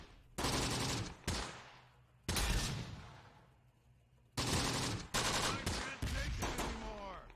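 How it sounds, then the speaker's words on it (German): Machine gun fire in the Close Combat: The Bloody First video game: several loud, sharp bursts and single shots spaced irregularly, each with a ringing decay, heard up close with no talk. "Wieso auch immer die Schüsse jetzt hier so landen."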